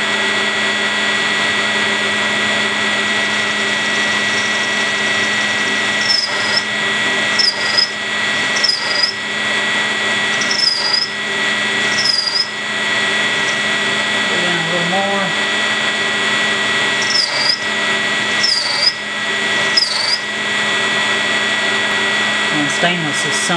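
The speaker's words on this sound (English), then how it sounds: "Slowed down the mill a little bit for this big end mill." Milling machine at reduced spindle speed driving a big end mill through stainless steel, a steady broadband machining roar with continuous whine, punctuated by brief squealing chirps at irregular intervals throughout.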